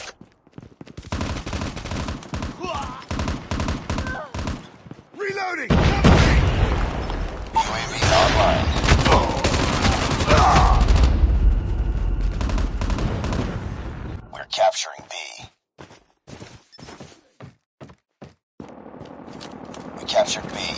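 M4 rifle fire in Call of Duty Mobile, rapid automatic bursts peaking in a loud sustained stretch mid-way, with game voice callouts and quieter gaps before and after.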